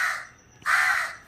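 A crow caws twice close by at a house in the morning, two harsh, loud calls separated by a brief gap, with no other sounds around them.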